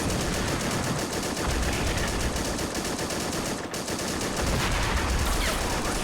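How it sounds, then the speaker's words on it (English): Army Men video game battle with sustained heavy gunfire and artillery, a dense, loud, continuous wall of rapid machine-gun shots and blasts with only a brief dip partway through. "Oh, this central position is under heavy fire."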